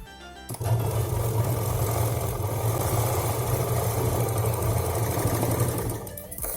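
A sewing machine runs steadily for several seconds, stitching the lining cloth of a handbag, a continuous close mechanical whir that starts abruptly and stops near the end.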